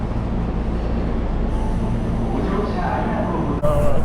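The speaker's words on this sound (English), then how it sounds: "It's a local train" Interior of a local commuter train in Chiba, Japan, with a steady low rumble of wheels and carriage noise throughout, a brief shift near the end, and talk faintly under it.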